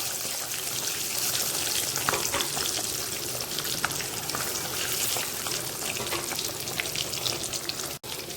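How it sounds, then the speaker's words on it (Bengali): Eggs coated with salt and turmeric fry in oil with a dense, loud crackling sizzle. Brief spits and pops run throughout, with a short break near the end. "আমি আগে ডিমগুলোকে একটু নুন হলুদ মাখিয়ে ভেজে"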